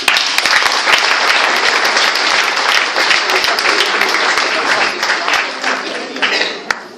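Warm, sustained applause from an audience at a local celebration after an exhibition organiser is thanked, loud and continuous before tapering off near the end, with a few voices mixed in.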